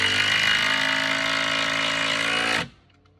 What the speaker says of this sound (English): I'm just going to go ahead and put a couple screws in this